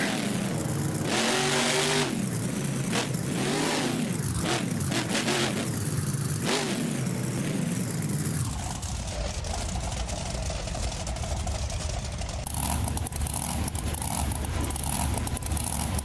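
A monster truck engine in the BeamNG Drive game revs hard at a monster jam style arena show, loud and close, with rising and falling pitch sweeps and then a sustained roar. An announcer talks over part of it.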